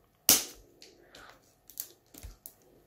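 Scissors snipping rolled newspaper tubes for a woven paper key holder, one sharp loud crunch followed by several quieter clipped cuts, close up in a quiet room.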